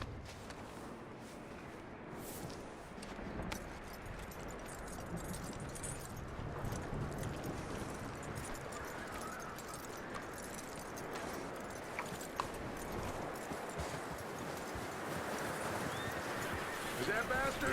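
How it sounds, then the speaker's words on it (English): A horse in Red Dead Redemption whinnies and snorts over a run of soft clip-clopping hooves, quiet and continuous under the surrounding game ambience, with characters talking throughout. "That looks like a decent horse."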